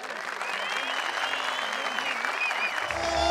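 Steady crowd applause fills a ranch gathering in Zumpahuacan, State of Mexico, a dense, continuous wash of clapping with voices mixed in, swelling slightly louder near the end.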